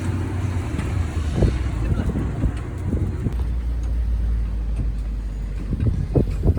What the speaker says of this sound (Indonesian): Mobil mulai menggerus jalan beraspal yang masih dibilang bagus